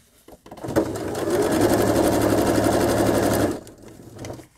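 A sewing machine stitching fabric for patchwork, a steady fast mechanical whirr lasting about three seconds with a sharp start and stop, close and loud, framed by faint handling noises.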